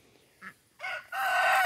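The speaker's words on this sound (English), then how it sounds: "One of our hens has come out." Escaped hen on a small farm where pigs are kept, giving a short soft cluck followed by two louder, drawn-out squawking calls close by, with no talk.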